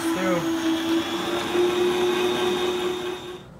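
Electric meat slicer with a spinning blade running while cutting meat into thin strips for homemade jerky, a steady close motor whine with a constant tone, slightly changing pitch early on, then easing off at the end.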